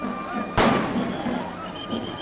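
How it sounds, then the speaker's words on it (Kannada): One sharp firecracker bang bursts close by amid a crowd's steady din, part of a rousing welcome celebration at Harohalli, with a faint crackling tail after the blast. "ಪಟಾಕಿ ಸಿಡಿಸಿ ಸಂಭ್ರಮಿಸ್ತಾ ಇದ್ದಾರೆ."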